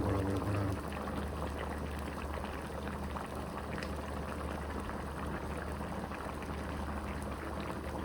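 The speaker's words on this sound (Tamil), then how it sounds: "மாதிரி கொதிக்குது பாருங்கள், கொல கொல கொல கொல கொல." A pot of country chicken curry with onion bubbles at a steady rolling boil, close and continuous, with thick liquid gurgling throughout and no speech.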